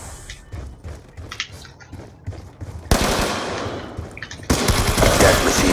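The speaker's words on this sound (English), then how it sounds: "Sentry gun ready to deploy." Automatic sentry gun firing in Call of Duty: Black Ops 2 co-op on Xbox 360, loud rapid bursts that grow denser and heavier toward the end amid game effects.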